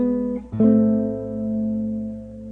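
A guitar chord with an open A bass note rings out with a deep low bass, struck near the start and sustaining cleanly as it slowly fades.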